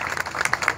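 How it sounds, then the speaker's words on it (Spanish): Crowd applause at a town festival proclamation, a brief burst of dense clapping heard at moderate distance. "Aplausos, señores, para los habitantes del barrio El Pilar."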